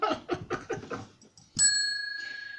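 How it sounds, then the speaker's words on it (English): A ring-for-service desk bell is tapped once, giving a bright, clear ding that rings on and slowly fades, right after a short run of quick knocking or tapping sounds. "I feel the urge to tap the bell."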